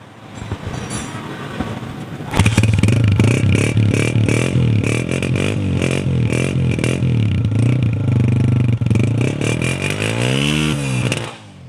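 A 2007 Honda 125 motorcycle engine idles faintly, then roars up close and loud, running steadily for about nine seconds with a rough, rattling tone and shifting revs before cutting off.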